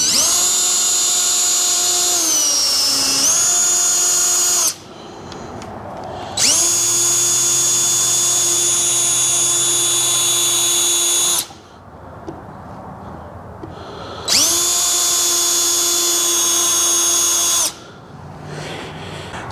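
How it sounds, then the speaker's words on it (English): A power drill whines loudly in three long bursts while pre-drilling holes in boards, spinning up with a steady pitched tone and cutting off between runs, with brief quiet gaps. "I'm going to pre-drill some holes in these first"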